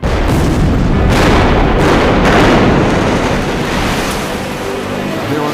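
Demolition explosive blast bringing down a steel and concrete structure: a loud, sustained broadband roar with several sharp bursts in the first seconds, rumbling on and fading only slightly over time.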